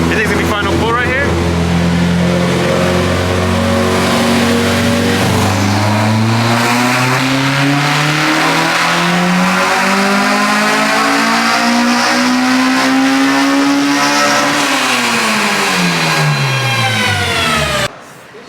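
A Honda Civic EG hatchback with a K20A2 engine and individual throttle bodies revs hard on a dyno, its pitch climbing steadily through a long pull before dropping off, loud and close, then cutting out abruptly near the end.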